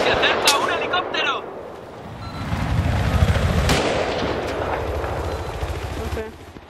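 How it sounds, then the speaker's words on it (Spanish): Helicopter approaching amid a Battlefield 3 multiplayer match, a sustained low rotor rumble building toward the middle and holding, mixed with scattered gunfire, explosions and game noise, with voices talking at the start. "¡Se acerca un helicóptero!"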